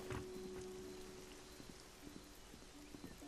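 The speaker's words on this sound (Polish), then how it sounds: "Przestanie deszcz padać" Steady rain patters in the video game Risen 2, a soft continuous hiss with faint scattered drops and a brief tone near the start, no one talking.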